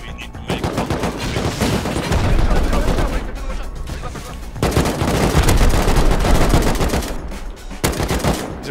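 Automatic turret fire in the survival game Rust during a clan raid: loud, dense, rapid gunfire in long sustained bursts with brief gaps, close and dominating throughout.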